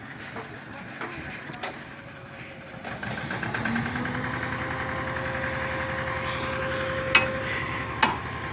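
A tractor engine idles nearby in a field where trolleys of soil are hauled, a steady low chugging throb that grows louder after a few seconds, with a couple of sharp clanks near the end.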